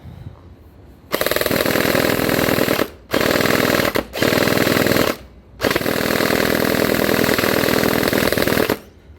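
Bing Feng MK18 gel blaster firing gel balls in sustained full-auto bursts: a long loud rattling stream, a brief stop, two shorter bursts, then another long run, close and with no voices.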